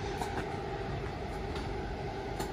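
A Northern passenger train pulls away from Congleton station bound for Manchester Piccadilly, a steady, continuous rumble with faint rail clatter, close by and unbroken for the whole stretch, with no talk.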